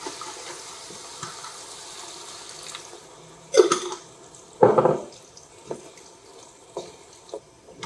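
Water poured from a jar into a cooking pan of fragrant salsa sauce, heard as two brief splashing pours followed by a few small drips and clinks, no voices.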